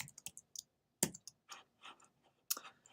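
Sparse computer keyboard typing with a handful of separate key clicks and short bursts, close and fairly quiet, no voice.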